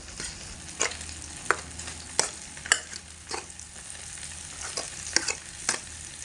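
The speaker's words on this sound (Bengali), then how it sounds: "এইভাবে অনবরত চামচ দিয়ে ঘেটে ঘেটে জলটাকে একদম সম্পূর্ণ বাইরে বের করে দেব" Taro leaves are stirred with a spoon in hot oil in a pan, the spoon scraping in regular sharp strokes about every half second over a continuous close sizzle of frying and steaming water.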